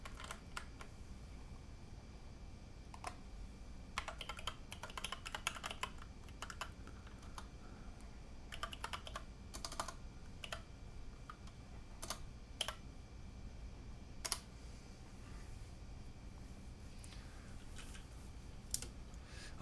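Rapid clicking keystrokes on a mechanical keyboard, with a steady, close patter of individual presses and small bursts over low background noise, no talking.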